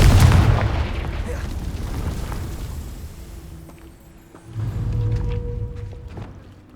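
The Confringo fire spell bursts in Hogwarts Legacy with a heavy boom at the start, then a rumbling tail, and a second deep blast rolls in near the end.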